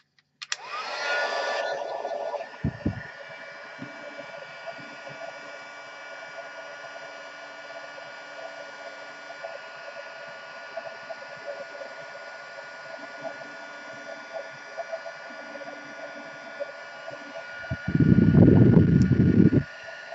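A heat gun blows steadily beneath an embossed greeting card, a continuous airy whoosh that starts loud, settles into a quieter hum, then swells louder again near the end.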